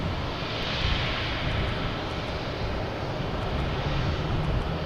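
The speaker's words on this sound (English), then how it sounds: "we have a JetBlue taking off, heading to West Palm Beach, an A320" A JetBlue Airbus A320 takes off from Boston Logan, a broad, even engine roar of steady strength heard from a distance with no voices over it.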